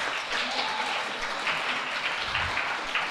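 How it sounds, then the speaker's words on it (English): Steady applause from a school audience at a National Honor Society induction and awards ceremony, a dense even patter of many hands that holds for a few seconds without a voice. "please give him a round of applause"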